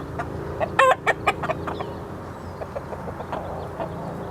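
A chicken clucks from a fence rail on a farm during horse training: a quick burst of close, sharp clucks, then scattered softer calls over a steady background hum.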